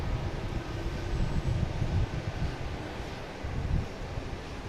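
A PAL Airlines plane arriving from Halifax rumbles as a steady, low, wind-blown engine roar, fairly loud and continuous without any talk.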